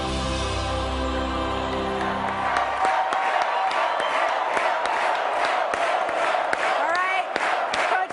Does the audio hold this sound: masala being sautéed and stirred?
no